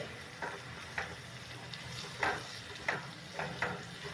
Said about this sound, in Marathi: आता हे चांगलं एक पाच दहा मिनटं परतून घ्यायचे व्यवस्थित सगळे जिन्नस त्याला लागायला पाहिजे